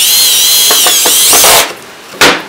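A power tool drives a drywall screw into a cowboy wine bottle holder with a loud, steady high whine for about a second and a half, then a brief second burst.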